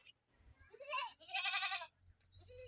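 A goat bleats twice up close, loud wavering cries, followed by a short softer call.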